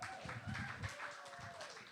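A comedy-night crowd keeps clapping for a stand-up act, a short burst of steady applause with a murmur of voices and a faint tonal whine under it.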